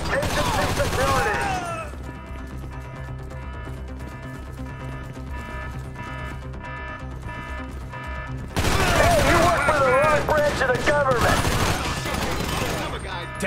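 Gunfire in Grand Theft Auto V during a facility assault: dense bursts of automatic fire, loud and sustained, with heavier volleys at the start and again near the end, mixed with game voices and noise.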